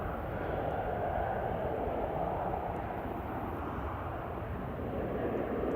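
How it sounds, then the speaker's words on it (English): Aer Lingus UK Airbus A330-300 jet landing at Manchester, a steady broadband engine roar held at a constant level throughout, fairly distant with no voices over it. "we've got first Aer Lingus UK A330-300 coming back in."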